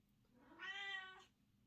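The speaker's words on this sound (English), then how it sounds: "My cat's trying to steal the show." A cat lets out a single clear meow, close and fairly loud, lasting about half a second against a quiet room.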